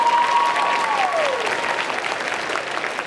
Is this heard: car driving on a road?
no